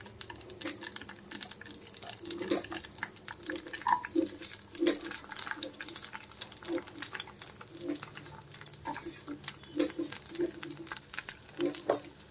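Green chillies fry in hot oil in a pan, a faint steady sizzle with soft clinks and scrapes of stirring scattered across the whole stretch, quiet and close.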